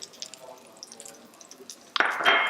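Water in a pan for poaching eggs is swirled with a utensil, giving a close sloshing rush that rises sharply near the end after faint drips and clinks.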